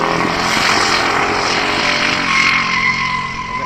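A drift car at a DriftWars event at Manfeild roars past with a loud, gruff, low engine note likened to a tractor, steady and close.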